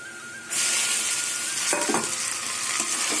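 Taro leaves tossed into onions frying in a pan for a chana dal and taro greens dish: a steady close sizzle jumps louder as the greens drop in, with stirring scrapes over continuous frying and no talk.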